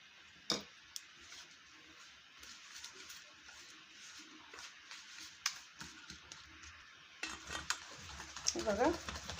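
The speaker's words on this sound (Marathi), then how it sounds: "बघा, असं चांगलं हलवून घ्यायचंय।" Mysore pak batter of flour and ghee is stirred in a pan, giving quiet scraping strokes and occasional spoon taps against the metal, busier and louder toward the end; fairly faint overall.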